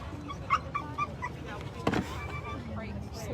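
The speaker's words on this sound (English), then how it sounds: "Some more puppies." Puppies rescued after a hurricane give a few high, thin yips and soft whimpers, brief and close, over a low background murmur with people talking nearby.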